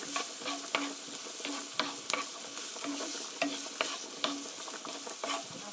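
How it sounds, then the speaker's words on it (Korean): Onions stir-fry in a pan, a steady soft sizzle broken by regular scraping strokes of a spatula, close and moderately loud, with no voices. "양파가 노릇노릇하게 될 때까지 볶아주세요."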